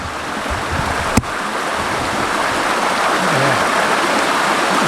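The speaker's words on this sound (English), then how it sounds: "But here we are at the waterfall." A waterfall in Pisgah National Forest gives a constant, full rushing roar of falling water, close and steady throughout, with one brief sharp knock near the start.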